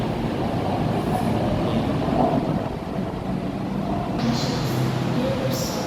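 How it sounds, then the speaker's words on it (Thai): A driverless pink electric train rumbles past nearby, a steady loud clatter of rail noise filling the whole stretch, with faint distant voices underneath. "รถไฟไปแล้วครับเนาะ"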